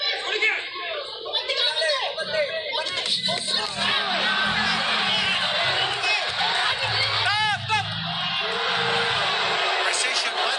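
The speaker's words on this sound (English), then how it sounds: "The crowd reacting." A boxing crowd reacts throughout a bout, a dense roar of cheers, chatter, laughter and whoops that rises and falls continuously, loud and close, with a commentator's voice woven through the noise.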